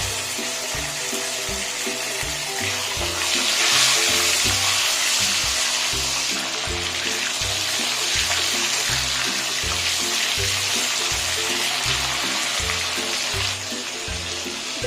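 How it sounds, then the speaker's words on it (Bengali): Pointed gourd pieces fry over high flame in a pan, a steady loud sizzle and spatter that never lets up, close by and alone, with a faint rhythmic mechanical thump underneath. "এভাবে করে আমি পটলগুলো ভেজে নেব।"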